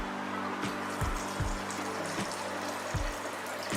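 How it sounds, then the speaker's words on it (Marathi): Water is poured into a raw mango panha mixture being prepared for a cooling drink: a steady close-up trickle with a few soft, regular low thuds underneath. "याच्यामध्ये थोडं पाणी पण घालावं लागतं कारण हे अगदीच दाट होऊन उपयोगाचं नाही"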